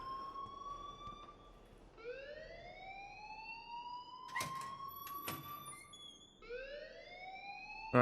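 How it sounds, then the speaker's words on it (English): Fire alarm in the Life is Strange video game: an electronic tone that sweeps up in long repeating whoops, steady and fairly loud, with a few sharp clicks and no talking. "please turn off that alarm since that's your job"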